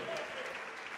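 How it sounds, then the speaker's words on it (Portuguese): Congregation at a church service claps steadily in a brief, dense burst, with a voice faintly audible underneath. "Vamos aplaudir que está chegando mais gente"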